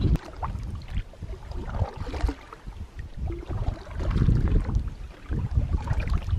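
A canoe glides over open water carrying a German Shepherd, with steady water wash and low rumbling wind buffeting the microphone throughout, no voices.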